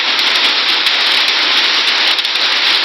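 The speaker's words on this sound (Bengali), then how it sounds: "শিলাবৃষ্টি চলছে" Heavy hailstorm with rain in Siddhirganj, Narayanganj, a dense, loud, continuous hiss of drops and hailstones pelting surfaces nearby, steady throughout with no voices.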